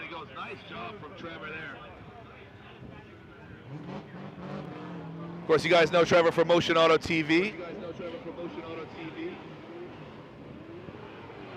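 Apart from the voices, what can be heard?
Corvette drift car driving at LZ Invitational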